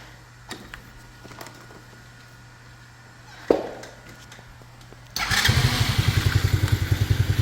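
A 125cc Tiking go-kart engine, with a few clicks and a thump before it catches and starts, then settles into a loud, fast, steady putter close by.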